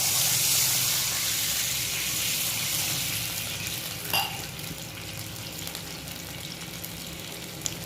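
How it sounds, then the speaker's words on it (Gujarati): Water poured into a hot frying pan of seasoned potato and semolina mixture with salt and coriander, giving a loud steady sizzle and hiss that eases slightly, with a brief splash midway. "હવે નાખી દઈશું પાણી."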